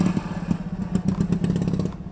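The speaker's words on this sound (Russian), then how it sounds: "Сейчас заводимся и едем" Off-road UAZ or LuAZ vehicle engine running and driving on a rough course, a steady, close mechanical drone with rhythmic clattering pulses throughout.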